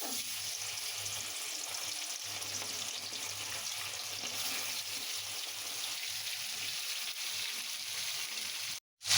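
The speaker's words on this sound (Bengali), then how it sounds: "এবার আমি কড়াইয়ের মধ্যে কিছুটা পরিমাণ তেল দিয়ে মাংসের টুকরাগুলো দিয়ে দিব" Marinated chicken pieces fry in oil in a kadai with a steady, close sizzle that continues for most of the clip, then cuts off briefly near the end.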